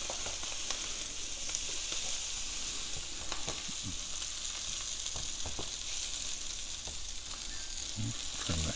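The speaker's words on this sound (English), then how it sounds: "Sausage is crisping up just fine." Italian sausage sizzles and crisps in a hot pan with a continuous close crackle, broken by occasional soft scraping and stirring knocks.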